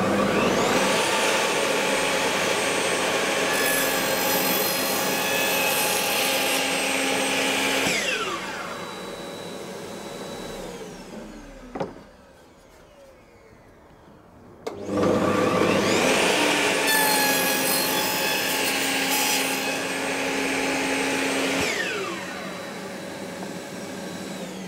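Power saw cutting wood for a workbench, two long loud whining cuts separated by a short quiet pause, the blade pitch dropping as each cut finishes.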